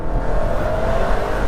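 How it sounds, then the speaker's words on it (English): An Alfa Romeo 4C coupe with an Akrapovic exhaust holds a loud, steady engine note up close, a rough, throaty drone with no talking. "mine has an Akrapovic exhaust"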